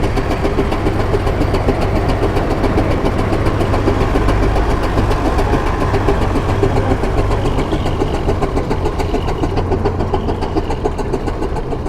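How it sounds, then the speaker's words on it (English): A tractor's steady mid-pitched engine drones loud and close as it pulls a plough down the field at a ploughing match, a continuous running rumble with a regular knocking pulse and no talk. "here's the plough coming down the field"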